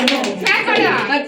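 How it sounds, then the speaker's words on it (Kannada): Audience clapping for a singer at a small home gathering, a brief burst of hand claps mixed with children's and adults' chatter close by. "ಎಲ್ಲರೂ ಅವರಿಗೆ ಚಪ್ಪಾಳೆಯನ್ನು"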